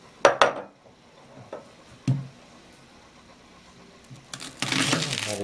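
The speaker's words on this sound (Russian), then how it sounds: "Так, теперь будем резать лук." A kitchen knife chops onion on a cutting board while making pumpkin samsa: a few sharp, close knocks spaced over a few seconds, then a louder stretch of rustling and scraping.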